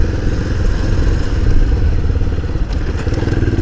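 Bajaj Pulsar 220F motorcycle engine running loud and steady along a rough, broken hill road, with continuous rumble and rattling clatter from the bumpy surface throughout.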